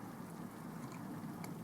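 Rain falls steadily outside a tavern at night in the visual novel Hellooo Orc, a soft continuous hiss with faint thunder-like rumble and a few light chimes, quiet and without voices.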